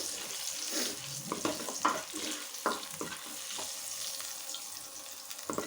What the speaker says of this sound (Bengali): ব্রাউন কালার করে ভেজে নেব।